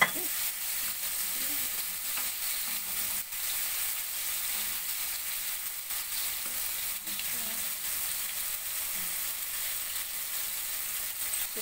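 Fish fries in butter in a pan with a steady, bright crackling sizzle that runs continuously at an even level, close and without voices.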